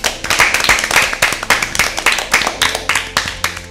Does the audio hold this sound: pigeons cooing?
no